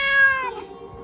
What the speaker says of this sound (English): Did you just meow?